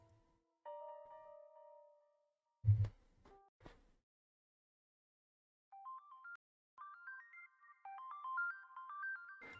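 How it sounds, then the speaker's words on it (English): A melodic electronic ringtone plays as a string of short, stepping beeps, quiet and alone, after an earlier sustained tone and a few soft thumps. "This sounds like a ringtone."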